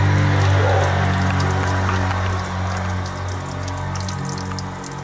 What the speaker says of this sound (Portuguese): Aí a água que tá saindo limpinha. Cristalina, está quente.